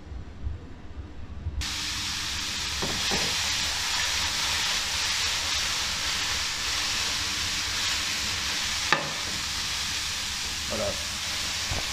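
Beef pieces searing in a hot pan for a bœuf bourguignon give a loud, steady sizzle that starts suddenly and runs continuously, with a few brief clinks and one sharp knock; a voice speaks briefly at the start.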